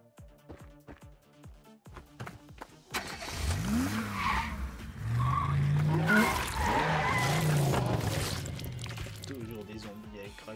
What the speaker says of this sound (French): Dans la voiture, je me casse.